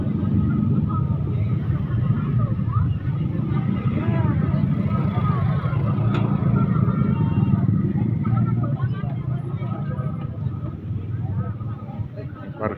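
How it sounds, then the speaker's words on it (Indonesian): Busy morning parking area for motorcycles at Pasar Gotong Royong, a traditional market in Magelang, with steady low engine rumble and traffic noise throughout, under a constant hubbub of distant voices. "Parkiran motor."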